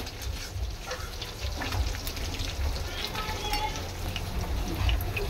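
Bombay duck (loitta) fish pakoras deep-fry in oil, turned partway through, with a continuous dense bubbling sizzle and low rumble, loud and close throughout.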